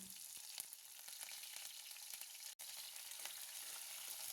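Urad dal, mustard seeds, curry leaves and onion sizzling in about three spoons of oil for a bottle gourd curry, a continuous close crackle with small pops and brief stirring scrapes.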